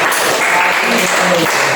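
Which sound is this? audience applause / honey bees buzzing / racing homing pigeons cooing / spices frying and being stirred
audience applause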